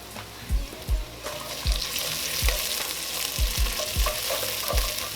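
Tomato paste cooking in a beef stew pot, a steady close sizzle broken by repeated dull knocks and scrapes of a spoon against the pot as it is stirred.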